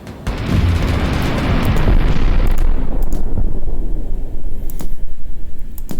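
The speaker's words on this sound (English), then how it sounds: "Okay, those bombs did not miss, but we'll be fine." Bombs explode in a strategy video game, a loud rumbling blast that swells and decays over a couple of seconds, followed by smaller crackling pops and debris-like bursts as the noise fades.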